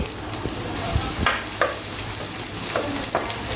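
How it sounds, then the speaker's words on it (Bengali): About a cup of chopped onion frying in oil in a frying pan, a steady loud sizzle with occasional scrapes of stirring, no talking. "এখন ভালো করে একটু হালকা করে বাদামি করে ভেজে নিতে হবে"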